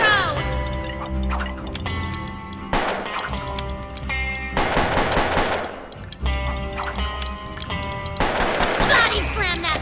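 Gunfire from a twin-revolver gunslinger in the video game Puppeteer, with loud bursts of rapid shots mixed with in-game music and sound effects, and a voice speaking over parts of it.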